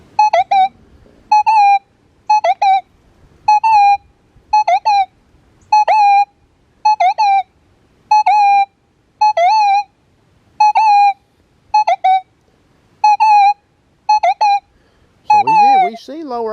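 Manticore metal detector with an M8 coil sounding over a gold ring: a rapid, regular series of short pitched electronic tones, each beep warbling briefly, ending in a rising wavering tone, loud and close.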